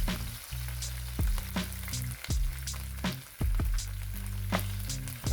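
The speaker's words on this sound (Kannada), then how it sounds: "ಈಗ ಬೆಳ್ಳುಳ್ಳಿ ಕುಟ್ಕೊಂಡು ಹಾಕತ್ತೀನಿ" Crushed garlic fries in plenty of hot oil in a pan. A continuous close sizzle runs throughout, broken by repeated clatter from stirring.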